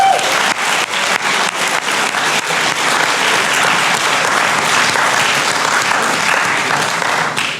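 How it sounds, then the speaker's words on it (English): A large audience applauds steadily at a school spring athletics and co-curricular awards ceremony, with dense, sustained clapping filling the room at close range for the whole stretch. "Please give him a round of applause."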